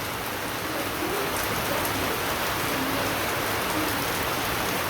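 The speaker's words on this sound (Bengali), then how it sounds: "তো দেখেন চতুর্পাশে বৃষ্টি এমন নামছে খুব ভালো বৃষ্টি নামছে" Heavy rain pours all around outdoors as a dense, unbroken hiss and patter, steady and loud throughout with no voices or other sounds.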